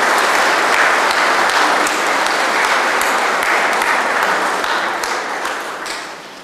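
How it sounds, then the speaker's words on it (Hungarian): Church congregation applauding children after their performance at a festive Mass, steady dense clapping throughout that fades slightly at the end. "Egy nagy tapssal köszönjük meg gyermekeinknek a szolgálatát."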